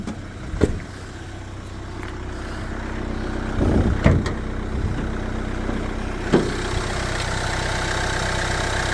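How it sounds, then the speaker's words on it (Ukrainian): A Renault Master L2H van's engine idles at a steady, continuous hum under an open hood, with a few brief clunks and knocks over the top and no talking. "Заведений двигун і зараз ми е, вам покажемо під капотом, тобто серце автомобіля."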